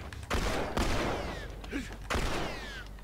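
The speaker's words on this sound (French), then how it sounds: "Et moi j'ai mon fusil longue distance." Long-range rifle in The Last of Us video game firing two or three sharp, loud shots about a second apart, each with a ringing echo tail and whistling streaks.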